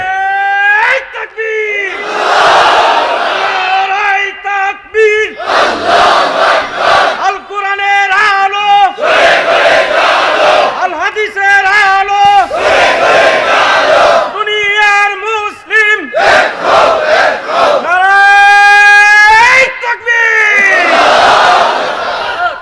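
A large crowd at an open-air Islamic religious gathering in Bangladesh shouts takbir over and over, loud massed voices rising in long chanted waves with short gaps between each call.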